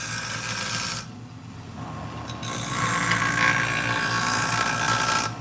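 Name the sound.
diamond wheel grinding scissors blades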